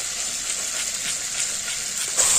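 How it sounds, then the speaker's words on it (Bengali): Spice paste fries in a pan for a prawn and pointed-gourd dish, a constant bright hiss and crackle close up, with a slight rise in sizzle near the end and no voices. "মশলাটা ভালো করে কষিয়ে নিয়েছি"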